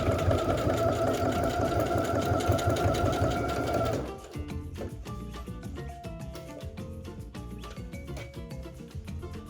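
A sewing machine stitches a carnival money belt with a fast, loud mechanical whir for about four seconds, then stops, leaving quieter clicks and handling sounds.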